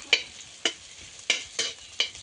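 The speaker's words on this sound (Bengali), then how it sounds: "আমি এখন ম্যাগি বাজা বাজা করলাম" Maggi noodles frying in a pan, five sharp sizzling bursts at an even stirring rhythm, close and fairly soft, with no voices.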